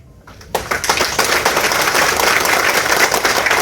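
An audience at a motivational training session in Calicut bursts into clapping after a brief quiet moment, a dense, sustained patter of many hands close by.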